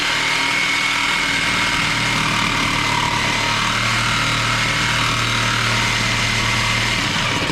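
Loud, steady high-pitched whine of a power tool cutting into a part of a Pontiac GTP, continuous and close throughout without a break.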